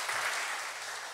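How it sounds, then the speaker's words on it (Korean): A church congregation claps in a short burst of applause during a Friday evangelism service, a dense patter that starts at once and fades slightly. "경의의 박수 한번 주십시다"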